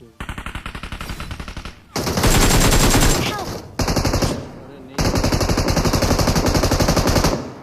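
Machine gun fire in a battle royale shooter, with M416 rifles in play: loud, rapid automatic bursts in several long strings separated by short pauses, close and dominant, with no speech over it.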